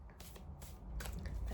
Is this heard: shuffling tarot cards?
yes